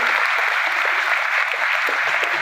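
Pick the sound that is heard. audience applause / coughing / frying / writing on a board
audience applause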